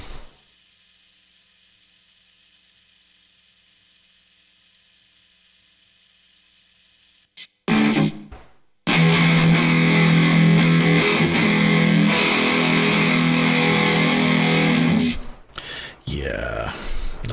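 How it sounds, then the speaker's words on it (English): Heavily distorted guitar tone from a Waves plugin, played loud and dense through a Cubase session after a long near-silent stretch, with a brief burst before it and a final rough section. "Let's see if I can't find some kind of decent distortion"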